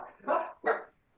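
Two sharp dog barks in quick succession, fairly close and distinct, followed by quiet; no talking over them.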